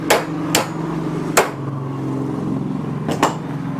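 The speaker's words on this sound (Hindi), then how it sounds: "डालने के बाद जो है इसको हम हैमर करेंगे।" A hammer drives a pin anchor bolt, with five sharp metallic strikes at an uneven pace, close and loud, over a low steady hum.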